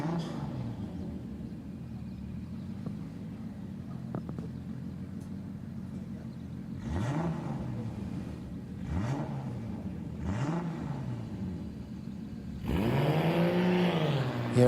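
A drift car at a Borneo drift series event revs in repeated rising and falling bursts, then roars louder at close range, over a constant background rumble of engines.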